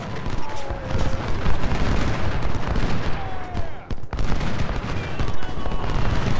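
Gunfire and cannon fire from a Civil War battle in the strategy game Ultimate General: Civil War, heard as a dense continuous roar of musketry with scattered sharper cracks and no pauses.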